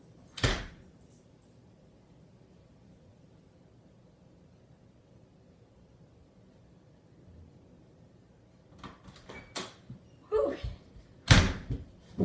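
A door thuds shut once early on, followed by a long quiet stretch and then a cluster of sharper knocks and clunks near the end, all indoors with no talk.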